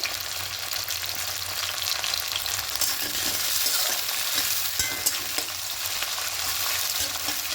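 Chicken pieces frying in a pan with chopped tomato, being stirred for a chicken moong dal; a steady close sizzle with scraping stir strokes throughout, no talk.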